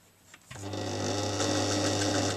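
Sewing machine starting up and stitching a seam on denim from a pair of jeans being made into a tote bag, a close, steady motor whir with rapid needle chatter after a faint click.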